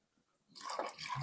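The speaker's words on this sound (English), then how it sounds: "I'm going to pour it first into the cup with the cream in it" Milk pours into a cup holding cream, a short soft liquid splash and trickle that starts abruptly and runs briefly, faint and close.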